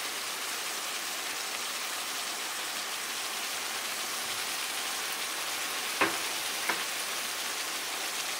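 Eggplant sautés in a pan with a steady, soft sizzle and crackle throughout, joined by two brief light clinks near the end, with no talking.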